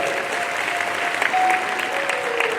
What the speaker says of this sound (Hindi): एक बार जोरदार ताली बजाकर